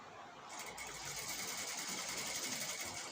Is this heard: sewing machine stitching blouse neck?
yes